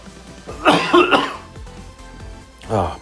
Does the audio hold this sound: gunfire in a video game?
no